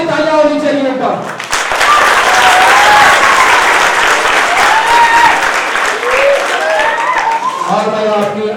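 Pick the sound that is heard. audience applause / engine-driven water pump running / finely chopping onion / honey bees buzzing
audience applause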